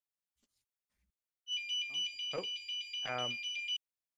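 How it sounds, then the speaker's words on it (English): A home fire alarm goes off suddenly, a loud continuous electronic ringing tone that starts abruptly and holds steady, with brief exclamations from a man heard over it. "That's my fire alarm"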